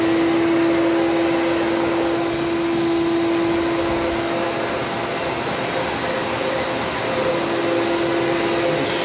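A Ridgid shop vac feeding a Dustopper dust collector runs at a steady, loud, continuous whine with a sustained hum tone throughout, close up and with no one talking.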